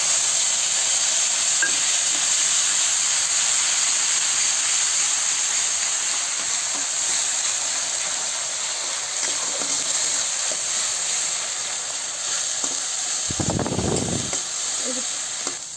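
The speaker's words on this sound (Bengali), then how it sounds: "আমি দিয়ে দেবো এই যে পেঁয়াজের পেস্ট" Onion paste fries in hot oil with a loud, continuous sizzling hiss that holds steady throughout, broken by a brief clatter of stirring near the end.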